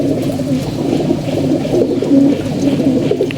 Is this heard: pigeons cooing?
yes